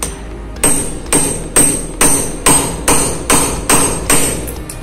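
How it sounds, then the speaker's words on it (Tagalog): Hammer strikes on a steel chisel while cutting a recess during door fitting, landing as eight sharp, evenly spaced blows about half a second apart, loud and close, with no talk over them. "Sa pagsisinsel, hindi masyadong kinakailangan ng malaking martilyo."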